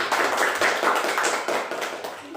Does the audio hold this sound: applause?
yes